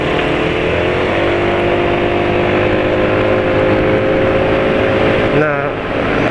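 A Yamaha NMAX scooter with tires at 36 PSI pulls hard with a loud, close, steady engine drone that wavers briefly near the end.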